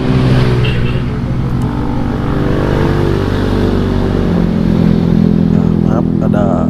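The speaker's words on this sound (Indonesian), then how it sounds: "Maaf ada suara kendaraan yang lewat." A motor vehicle passes nearby on a road beside a cocoa plantation, a loud, steady engine drone that fills the whole stretch.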